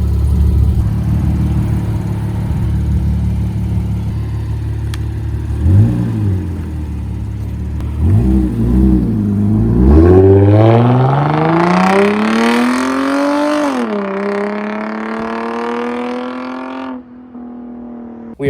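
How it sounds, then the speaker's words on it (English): A car with a newly fitted oil catch can is driven hard around the block, its engine loud and close, first idling and then revving, with rising and falling pitch as it accelerates through gear changes and briefly eases off near the end. "right now we're gonna drive it hard around the block 2 times"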